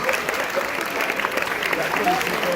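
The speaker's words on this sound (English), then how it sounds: "Let's give Keith a big round of applause." Audience at a hypnotist stage show applauds a hypnotized volunteer, a dense, even wash of clapping filling the room with a voice faintly underneath.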